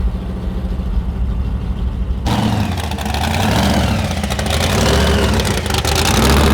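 A blown, nitrous-fed 1965 VW Beetle dragster engine of 1220 hp runs loud and close. It idles roughly, then the level jumps sharply and it holds a harsh, raised rumble as the revs come up.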